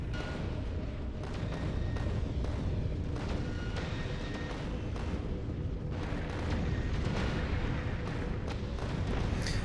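Railgun rounds fire repeatedly in a Factorio Space Age deathworld base, a dense, continuous barrage of heavy booming shots layered over one another, loud and sustained with no pauses.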